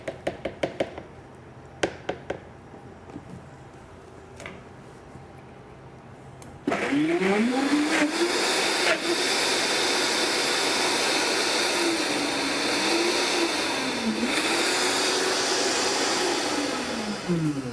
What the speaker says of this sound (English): I'm gonna throw a little bit of cilantro and salt in there and blend it up